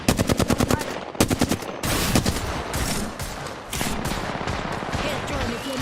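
Gunfire in a video game, with rapid bursts of automatic fire, brief pauses between them and then denser continuous shooting, all loud and close.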